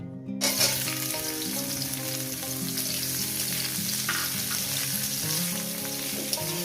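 Onion frying in a pan with dried red chillies for an eggplant fry dish, a loud steady sizzle that starts abruptly as the onions hit the hot oil and continues unbroken, with background music playing underneath.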